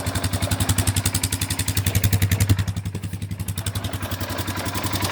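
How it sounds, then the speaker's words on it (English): A 2019 Polaris 450 engine running near at hand with a fast, regular tick, its motor bouncing against the frame, a rhythmic clattering pulse over the idle. "Hear that tick? There's going to be a tick to your engine."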